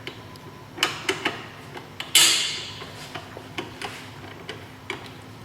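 A 12mm T-handle wrench loosening an exhaust mount on a 2015-2020 Yamaha R3 motorcycle, giving sparse metallic clicks and ticks with one sharper clank partway through, close and fairly quiet.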